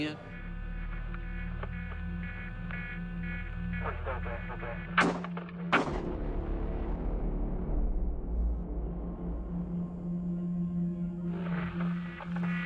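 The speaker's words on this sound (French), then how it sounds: "La seule chose qu'on entend, c'est le son des 2 coups de feu qui ont été tirés." Two sharp gunshots ring out about a second apart, cutting through a muffled hum and low background voices.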